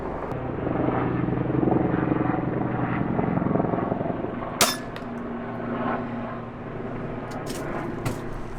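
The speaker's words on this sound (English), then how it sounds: "those helicopters be loud" Steady low rotor drone of a helicopter fills the whole stretch, loud and continuous, with a brief sharp clank partway through.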